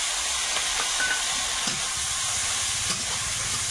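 Small shrimp hit hot oil with chilli and garlic, turmeric and salt, giving a steady close broadband sizzle that runs unbroken, with faint scrapes now and then.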